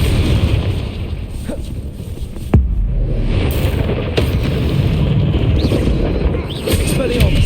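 Confringo fire spell blasts in Hogwarts Legacy, a sharp explosive burst around the midpoint with further booming impacts over steady game rumble and music, and a shouted spell voice mixed in.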